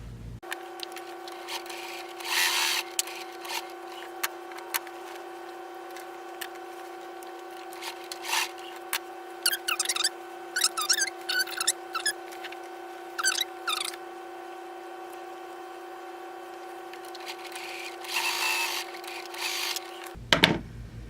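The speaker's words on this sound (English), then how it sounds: "I'm sewing a 1/2 inch seam allowance going across." A sewing machine stitches a half-inch seam across the layers of a tote bag, giving a steady mechanical hum with bursts of rapid, close needle clatter that start and stop over the run.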